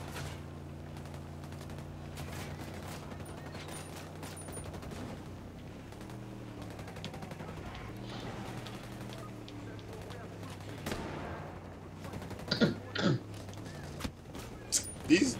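Bursts of automatic gunfire aimed at drones in Ghost Recon Breakpoint, fairly faint under a low droning engine hum at first, then sharper, louder shot clusters near the end while a player talks.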